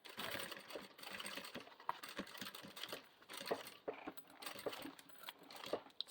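Sewing machine running in short stitching bursts along a curved seam of a small elegant zip-up toiletry bag, a steady close mechanical rattle with brief pauses and faint clicks.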